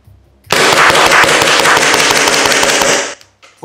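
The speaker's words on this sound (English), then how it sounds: "Continuous shooting until the mag is empty." An Umarex VFC Walther PPQ M2 airsoft pistol fires continuously until the magazine is empty, a rapid, close run of sharp cracking shots lasting about two and a half seconds before a couple of faint clicks.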